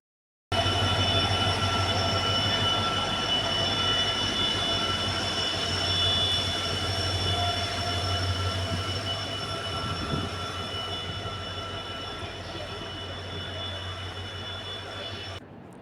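A train runs through Matunga railway station in Mumbai, a steady loud rumble of wheels and carriages with high squealing tones, lasting throughout and slowly fading toward the end.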